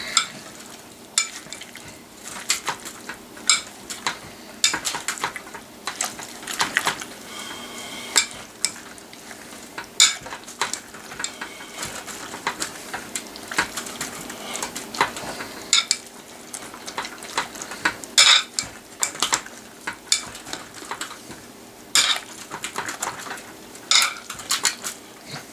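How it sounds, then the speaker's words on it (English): Prickly pear cactus fruit being mashed in a container for mead, a steady run of close, wet squishing and knocking thuds with clinks, irregular and busy throughout, no voices. "I'm going to mash that a little bit more"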